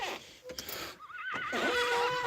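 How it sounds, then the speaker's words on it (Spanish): A horse neighs in the cold mountain sierra, a loud wavering whinny rising and falling close by, with wind and rustling around it. "¿cómo me llama el caballo,"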